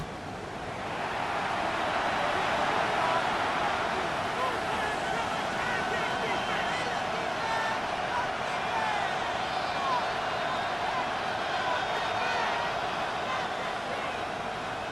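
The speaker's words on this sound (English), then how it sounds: "The crowd making their presence felt." Stadium crowd noise in a Madden NFL 26 football game: a broad, steady roar of cheering fans that swells in at the start and holds loud and continuous, with a commentator's voice over it.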